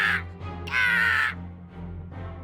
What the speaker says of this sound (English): Wait, are those Black Raisin Cookie's crows?